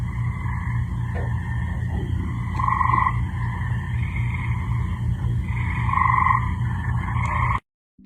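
Frogs calling in repeated rhythmic bursts, a low pulsing chorus with higher twangy calls rising and falling, steady and fairly close.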